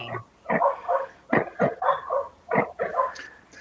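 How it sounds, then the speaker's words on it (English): A small dog barking repeatedly in short, yappy bursts at an irregular rhythm, fairly close and clear over a quiet background, with no talk during the barks. "Hey, Richard, I think we have your puppy dog there"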